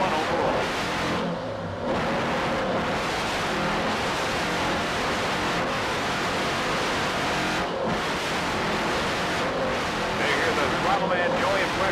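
A brand-new 46-foot Skater offshore racing powerboat running at speed, a steady loud roar of engines and rushing water and wind throughout, with a few dips and surges.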